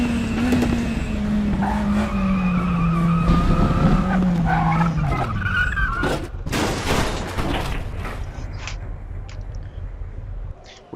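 BMW DTM 92 race car braking hard and skidding at Surtees in Raceroom, a loud engine note dropping in pitch as tires squeal, then a rough scrabbling skid fading out.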